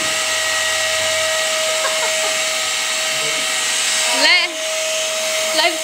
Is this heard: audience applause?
no